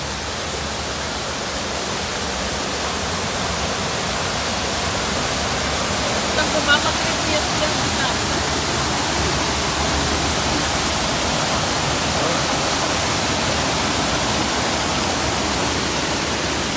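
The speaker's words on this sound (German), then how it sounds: "Okay, da kommt Wasserfall." Waterfall splashing beside the Piraña rapids ride at Efteling, a loud, steady broadband rush of falling water that runs unbroken throughout, with voices faintly under it.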